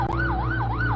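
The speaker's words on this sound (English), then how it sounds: "It does have sirens though" An ambulance siren from the video game Jailbreak wails loudly and steadily, its pitch sweeping up and down in smooth repeating cycles over a low vehicle hum, with no voices present.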